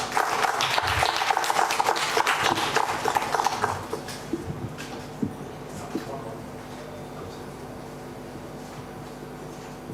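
An audience at a national AI summit for placement officers claps in a burst of dense, rhythmic hand claps that fades after a few seconds into quieter room sound with scattered taps.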